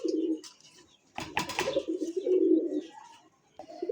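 A pair of desi rasgolla pigeons from village Bengal coo in close, repeated throaty bursts, with a brief flutter of wings partway through.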